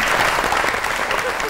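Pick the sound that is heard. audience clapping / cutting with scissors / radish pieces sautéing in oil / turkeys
audience clapping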